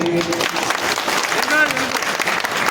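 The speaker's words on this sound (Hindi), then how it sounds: "तो उनको भी आप ताली बजाकर आशीर्वाद दे दीजिए" A gathered crowd at a public function claps in blessing, a dense burst of applause with a few voices mixed in.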